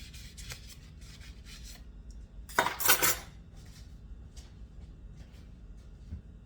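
Metal measuring spoons being handled and wiped in a home kitchen while making a raspberry cream pie; one short burst of metallic clinking and rubbing stands out midway, with only faint quiet handling before and after and no talking.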